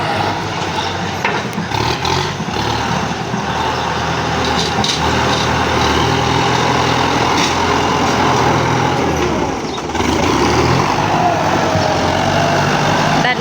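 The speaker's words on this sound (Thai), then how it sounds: "พามาเบิ่งรถไถนาคูโบต้านำเข้าจากประเทศไทย" A Kubota farm tractor engine runs continuously, a loud, steady diesel chug and rattle heard up close, with no one talking over it.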